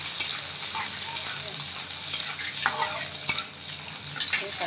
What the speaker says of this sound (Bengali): রসুন দিয়ে দিচ্ছি, কাঁচা লঙ্কা দিয়ে দিলাম, ঠিক আছে? দিয়ে নাড়াচাড়া করবো।